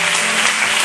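A church congregation applauds, giving a brief, dense burst of steady clapping from many hands.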